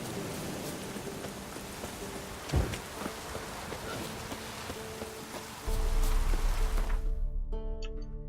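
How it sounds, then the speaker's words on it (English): Steady rain in The Witcher 3: Wild Hunt patters and hisses continuously, with a brief dull thump partway through and a deeper rumbling wash near the end. "Looks like rain."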